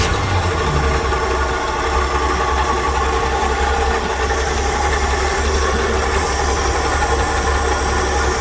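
A 1965 Chevy step van engine idling after a carburetor rebuild, running warm with a small exhaust leak; a continuous, even, moderately loud idle with slight vibration and faint knocking.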